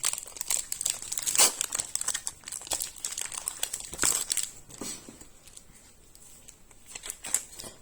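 Foil Pokémon card booster packs are torn open and handled, giving steady close crinkling and crackling with sharper tearing bursts, continuous throughout with no talking.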